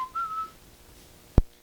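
A single person whistles a short, thin steady tone that rises briefly and fades, followed by a faint low-pitched thump, alone against a quiet room.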